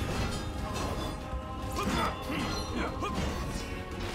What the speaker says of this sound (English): There's a shatter.